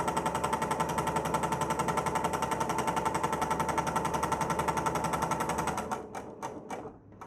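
A sewing machine runs steadily, stitching a quarter-inch seam along the edge of a fabric face mask. The rapid motor whir holds loud and close for about six seconds, then breaks into a few short bursts as the stitching slows and stops.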